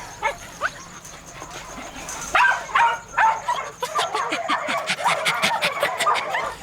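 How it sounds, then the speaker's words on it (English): A dog barks repeatedly in short irregular bursts, getting busier toward the end, with outdoor background noise and no talking. "I can hear him barking"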